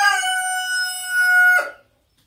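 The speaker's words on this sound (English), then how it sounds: "Oh, these roosters are so cool looking." A single rooster crows once, loud and close, a sustained strained call lasting about a second and a half before cutting off into silence.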